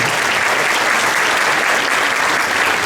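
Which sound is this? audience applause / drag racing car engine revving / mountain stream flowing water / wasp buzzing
audience applause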